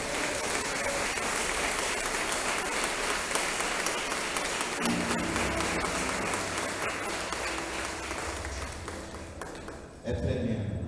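A church congregation applauding during a worship service, broadband clapping sustained for about ten seconds with some voices mixed in, fading slightly before a brief louder burst near the end.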